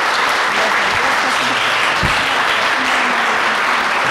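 An audience applauds after a lecture on political ecology, a dense, steady clapping from a roomful of people that continues throughout without a break.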